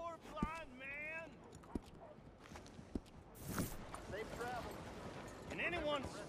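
Horse hooves clip-clop at a walk in Red Dead Redemption 2, a few distinct hoof strikes sitting under steady spoken dialogue and game ambience.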